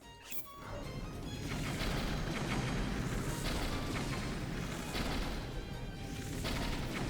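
Bomb arrow explosions in Breath of the Wild, a dense run of loud, overlapping blasts and crashing impacts that roll on continuously without pause.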